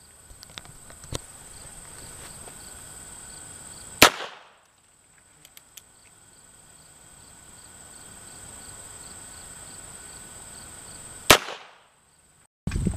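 At an outdoor firearm training range, two loud, sharp gunshots ring out several seconds apart, each followed by a brief echo, over a steady background of chirping insects.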